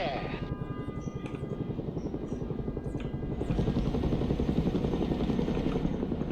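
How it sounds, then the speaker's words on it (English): A CH-47 Chinook helicopter from the game Broken Arrow flies with a dense, thudding rotor drone that swells louder partway through, while a voice talks over it. "CH-47 Chinook, or whatever its name. Flying there now."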